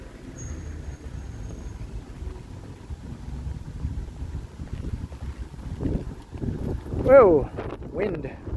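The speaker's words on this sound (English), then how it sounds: "Whoa, wind." Gusty wind buffets the microphone on an evening city street, a low rumbling roar that swells and rises toward the end, with a voice briefly heard over it.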